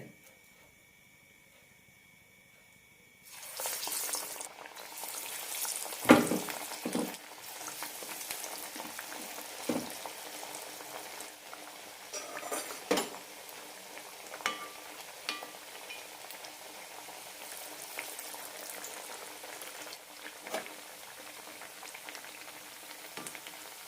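Chana dal vadas sizzle and bubble in hot oil, the frying starting abruptly after a quiet moment and then crackling steadily with occasional louder pops and stirring clinks.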